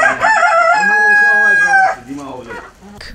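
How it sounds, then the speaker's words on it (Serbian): A rooster in a farmyard full of poultry lets out one loud, close crow, a long drawn-out call that trails off, followed by softer clucking. "Ovo je mesto gde se zaboravljeno oglašavanje petla čuje ne samo ujutru,"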